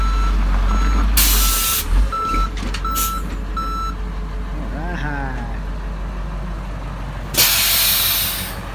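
A truck backs up to unload material, its reversing alarm beeping in a steady series over a low diesel idle, with sharp hisses of air brakes and brief talk nearby.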